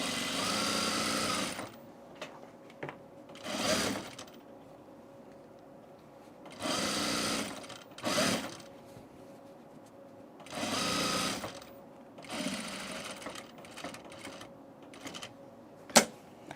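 A domestic sewing machine fitted with a size 14 needle stitches tan textured fabric for a tunic in several short, loud bursts of rapid whirring, separated by quiet pauses, with a sharp click near the end.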